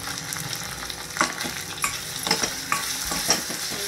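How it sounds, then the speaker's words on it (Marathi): Stuffed ridge gourds being placed one by one into hot masala with ginger-garlic paste and coriander-cumin powder, producing a steady close sizzle broken by soft clicks and scrapes of the pan. "आता ही दोडकी एक एक इथे घालायची आपल्याला"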